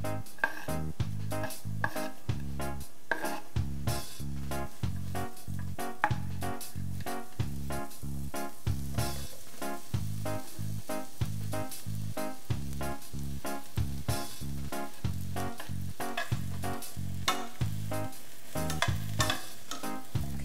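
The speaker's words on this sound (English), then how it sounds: "we'll add the shallots and the mushrooms" Shallots and mushrooms frying in a pan for japchae give a continuous sizzle, broken by regular scraping and clacking of a utensil stirring against the pan.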